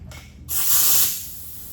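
A spray gun puts pink paint on a 1971 VW Super Beetle, a loud close hiss bursting on after a brief quieter puff, then tapering off.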